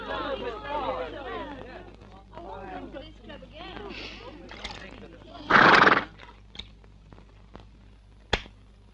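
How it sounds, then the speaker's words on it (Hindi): A horse whinnies indoors in a loud, rising neigh midway through, after a stretch of people talking, followed by a few faint thuds and a sharp click. "डॉग भी आ गया, इंडियन भी आ गया, उसका घोड़ा भी अंदर आ गया"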